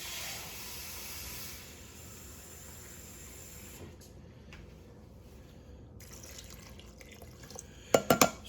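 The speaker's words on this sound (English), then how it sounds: "I'm going to start putting in some water, some moisture into this" Water is poured into a pot of beef stew with a steady rushing splash that fades to a trickle, followed by a few sharp metallic clinks near the end.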